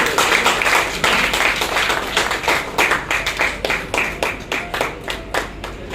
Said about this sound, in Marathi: तर त्यांना मी सर्वांनी टाळ्या वाजवून त्यांचं स्वागत करायचं.